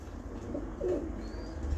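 A breeder pigeon coos softly and close by, a short low throaty burr rising in the middle of the moment against a quiet background hum, with no one speaking.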